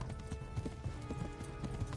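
A horse's hooves clip-clop in a steady trotting rhythm in the video game Kingdom Come: Deliverance, close and continuous over a low rumbling background.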